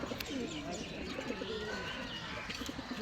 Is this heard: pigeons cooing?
yes